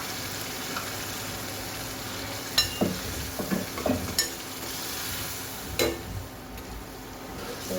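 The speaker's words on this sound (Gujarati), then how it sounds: "સરસ મિક્સ કરી લઈએ" Sizzling dal is stirred in a pan, a steady frying hiss broken by several close spoon scrapes and knocks against the metal.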